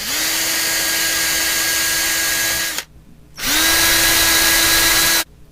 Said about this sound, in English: I'll use a 1/16 inch drill bit to create those holes